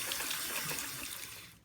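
Tap water runs steadily as soapy makeup brushes are rinsed under it, a continuous close splashing hiss that keeps going at an even level without pause.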